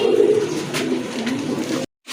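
A pair of pigeons coo softly and closely in a loft, a low throaty murmur that breaks off briefly into silence near the end.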